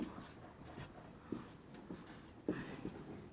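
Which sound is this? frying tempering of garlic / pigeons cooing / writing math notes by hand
writing math notes by hand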